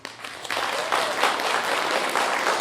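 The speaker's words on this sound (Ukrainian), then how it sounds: "ми маємо сьогодні не жаліти всім учасникам велику порцію, великий об'єм шалених оплесків" An audience at a Shevchenko poetry recitation contest applauds the winners, the clapping rising quickly from a few claps into loud, sustained applause from a nearby crowd.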